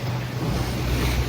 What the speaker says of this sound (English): And water's splashing.